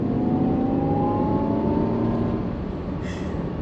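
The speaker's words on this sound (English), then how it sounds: "It almost sounds like they're trying to mimic a supercharger whine in dynamic mode with your foot down" A Jaguar I-Pace 400 Sport electric SUV accelerating hard in dynamic mode, its loud, steady supercharger-like whine rising in pitch over a dense road and motor roar, with no voices.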